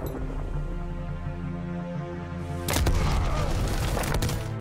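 A deep grenade boom erupts partway through, cutting into a steady low game hum, in Black Ops Cold War, and its rumble and debris keep sounding loudly until the end.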